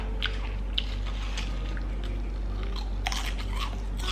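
Close-up crunching and biting of Lay's truffle-flavored potato chips, a few sharp crisp bites then denser chewing near the end, loud and alone without talk.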